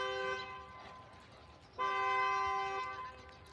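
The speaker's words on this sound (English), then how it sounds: "someone's car is honking" Car horn honking outdoors near a hiking trail in Tennessee, two sustained tonal blasts, the second louder and longer, heard from a moderate distance.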